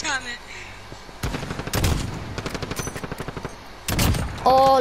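Gunfire in the video game Call of Duty Modern Warfare multiplayer, where an HDR sniper rifle is in use: loud sharp shots and a rapid rattling burst from nearby, mixed with other game sounds.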